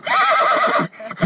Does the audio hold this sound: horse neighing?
yes